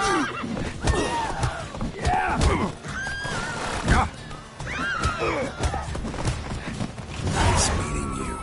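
Horse neighing and whinnying in The Witcher 3 video game, loud and close, repeated several times amid game music and character voices speaking over it.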